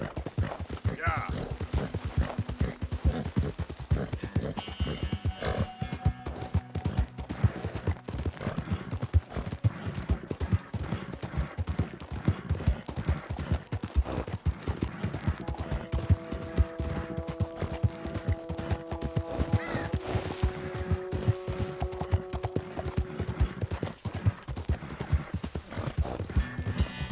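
Horse hooves clip-clop at a steady gallop for the whole stretch in the video game Red Dead Redemption 2. A rider's voice, a neigh and background game music sit over the hoofbeats.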